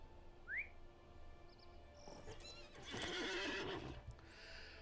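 In a fantasy video game set in the Trollshaws, a horse gives a loud, shrill whinny that rises and falls, with soft hoofbeats and whistle-like game effects in the background.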